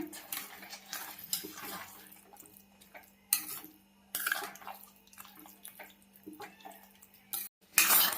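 A spoon scrapes and stirs through eggplant curry with fresh coriander in a metal pan, in loud irregular bursts of clattering and scraping separated by quieter pauses.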